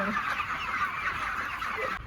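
Chickens cluck together on a poultry farm, a dense, continuous chorus of hens heard up close without a break.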